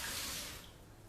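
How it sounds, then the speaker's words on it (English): Starchy rinse water from washed rice is poured out of a pot into a sink, making a steady, splashing trickle. It is quiet and close, and it tapers off after a second. "So I poured out the water and I'm going to put in fresh water."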